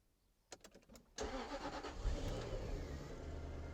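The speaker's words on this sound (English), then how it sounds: "put the key in the ignition" A Jaguar XK8 cranks with a few quick starter pulses, then catches and roars to life close by, settling into a loud, steady idle.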